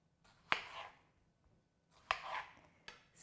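A knife slicing tomatoes in half on a cutting board, three sharp chops landing on the board with soft squishy cuts between, close and fairly quiet in a home kitchen.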